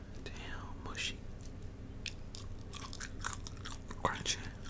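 Crunchy chewing of Chinese food in an ASMR mukbang, close bites and crunches interleaved with soft whispering.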